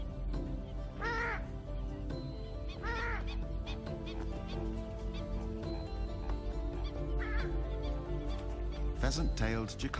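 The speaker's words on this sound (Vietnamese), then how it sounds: "Đây là gà nước cổ tím, hay còn gọi là chim xích, nổi tiếng với tiếng kêu bật hơi cực lớn." Loud, harsh honking calls of a purple swamphen ring out in a few separate bursts, over a continuous background of music and murmuring.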